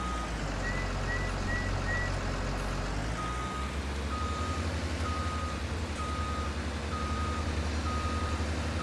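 Steady, evenly spaced reversing beeps from a wheel loader in Farming Simulator 19 sound over a low engine drone, starting after a brief higher chirp pattern and repeating about once a second.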